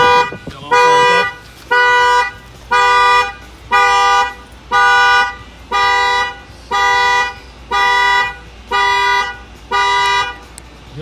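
An Infiniti Q50 car alarm set off by a shock sensor blares nearby in loud, steady on-off horn blasts, about one per second, repeating evenly.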